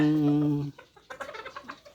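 Gamefowl chickens kept by a breeder call nearby: a long, held crowing or squawking note, then a quick run of short, choppy clucks.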